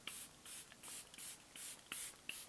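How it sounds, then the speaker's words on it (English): Setting spray misted onto a face during everyday makeup: seven or eight short, hissing spritzes in a steady rhythm, close and clear, with no talking. "go in with your setting spray at this point"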